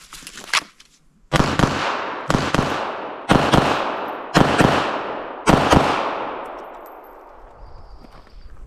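Six sharp, loud gunshots from a Smith & Wesson Bodyguard 2.0 .380 pistol drawn from concealment, fired at roughly one-second intervals after a single earlier shot, each ringing out with a long decaying echo outdoors.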